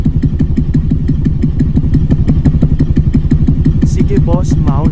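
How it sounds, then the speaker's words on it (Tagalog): A built Honda Click scooter engine runs at a steady, loud idle with a fast, even pulsing rhythm, close to the microphone, with a brief voice near the end. "Ganda tunog nakabuild pa makina nito."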